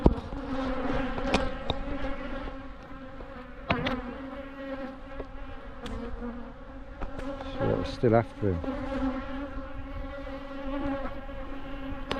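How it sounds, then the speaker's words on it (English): Aggressive honeybees swarm around an apiary whose colonies are being eaten by birds, a loud, dense buzz with individual bees zipping close past. Someone speaks briefly partway through. "Can't be having the bees aggressive like this because they're being eaten by the birds."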